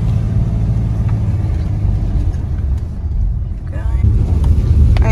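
A car drives through Breaks Interstate Park, heard from inside as a loud, continuous low engine and road rumble with a brief muffled voice late on.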